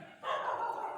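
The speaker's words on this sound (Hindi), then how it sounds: "लगातार कुत्ते भौंक रहे हैं" A dog gives a single drawn-out bark or howl, fairly close and clear, with no talk over it.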